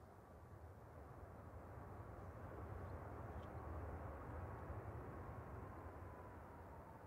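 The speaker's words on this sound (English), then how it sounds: "That's Ryanair flight 1154 coming in from Berlin Brandenburg" Faint, distant roar of a Ryanair airliner arriving at Manchester from Berlin Brandenburg, swelling slightly midway and then holding steady as a low, far-off rumble.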